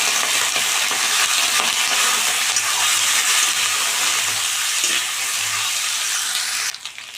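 Diced potatoes and onion fry in hot oil with panch phoron in a pan, giving a loud, steady close sizzle with soft stirring scrapes throughout, and the hiss drops suddenly at the end.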